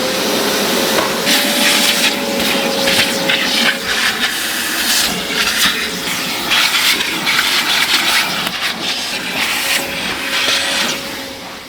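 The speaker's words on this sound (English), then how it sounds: "when TJ changed the seats in his GTT, he didn't vacuum underneath the seats, so we're gonna make sure to do that for you" A vacuum cleaner whines steadily under the seats of an outlaw Porsche GT, loud and close, with a constant motor tone and shifting rushes of air as the nozzle moves.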